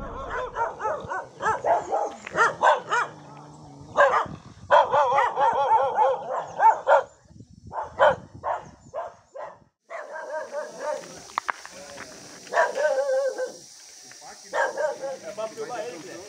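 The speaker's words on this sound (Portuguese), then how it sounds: "o cachorro atacou hoje, deu as caras." A dog barks repeatedly at mountain bikers on a dirt trail, the sharp bursts mixed with people talking and shouting nearby, the barking loud and close in short irregular runs across the stretch.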